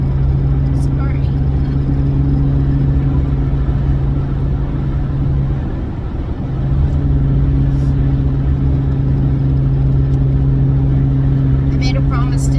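A car engine drones steadily from inside the moving vehicle, a constant low hum with a brief dip midway.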